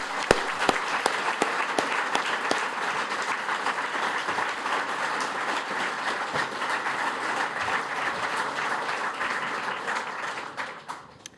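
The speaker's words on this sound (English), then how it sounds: "we'd like to acknowledge it with a round of applause." A boxing press-conference audience applauds in tribute, continuous clapping from a sizable crowd with a few sharp individual claps standing out, fading away over the final second.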